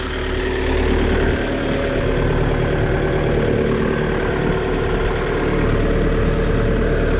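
Kioti RX 7030 tractor engine running steadily at a constant loud drone with a deep low rumble and no pauses, pulling a slasher in gear, alone without any talking.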